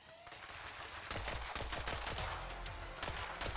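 Rapid bursts of gunfire in the video game Borderlands 3, with sharp repeated shots and heavy low thumps layered over game effects, loud and continuous throughout.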